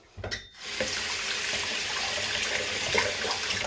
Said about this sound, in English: I'm going to just do my final rinse up